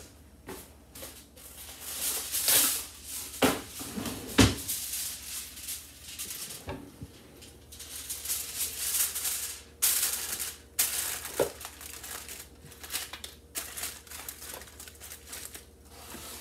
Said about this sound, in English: Put tin foil over the